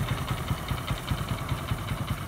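A Hero Glamour 2020 motorcycle's single-cylinder, air-cooled 124.7cc carbureted petrol engine idles steadily with a close, even, rapid low thump and no talking.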